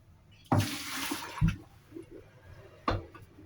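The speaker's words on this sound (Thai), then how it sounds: "เทน้ำออกนะคะ เทน้ำออกก่อนนะคะ" Water splashing out of a pot in a few short pours and gushes, with a sloshing burst at the start and another near the end.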